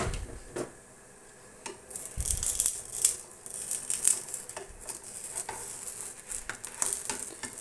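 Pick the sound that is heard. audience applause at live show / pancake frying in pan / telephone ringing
pancake frying in pan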